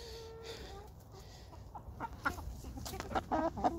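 Hens clucking nearby in a farmyard, soft at first and then busier with several sharp clucks and calls toward the end.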